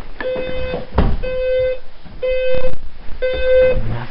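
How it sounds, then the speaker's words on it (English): A phone alarm sounds in a cluttered bedroom, beeping in three or four loud, evenly spaced bursts with pauses between them, and brief noises are heard between the beeps. "Oh, my phone. My alarm is on."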